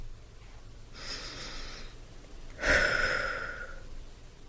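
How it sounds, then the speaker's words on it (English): A person takes a deep breath: a soft, airy inhale lasting about a second, a short pause, then a louder, longer exhale with a breathy rush that slowly fades, close to the microphone with no talking. "Take a deep breath with me."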